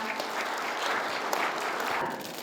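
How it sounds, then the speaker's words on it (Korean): Dense, steady applause from the audience at a regular general meeting of a specialty construction association in Gyeongbuk, filling the room at even loudness before easing slightly at the end. "여러분 다시 한번 축하의 박수 부탁드립니다."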